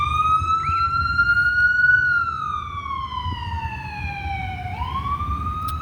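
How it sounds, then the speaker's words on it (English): An emergency vehicle siren passes close outside, loud and clear in a slow rising and falling wail over low background rumble, with no talking. "that siren came through here, that was very loud"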